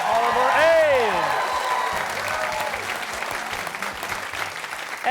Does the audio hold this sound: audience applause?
yes